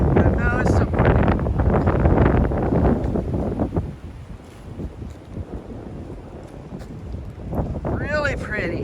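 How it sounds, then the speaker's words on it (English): Fierce wind roars across an exposed Appalachian Trail mountaintop, gusting hard into the microphone in heavy rumbling buffets that ease into a lull partway through, with a voice speaking over it. "The wind was fierce."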